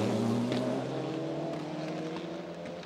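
Race cars at the Fox Hill Supercross circuit produce a continuous engine roar with rising and falling harmonic whine, heard from a distance as they pass, with no voices.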